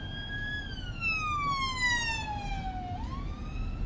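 An emergency vehicle siren wails loud and steady, its tone sliding down as it passes close, then rising again, over a constant road rumble.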